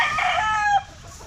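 Farm chickens, with a rooster crowing close and loud in one short burst before it cuts off, over a low background hum.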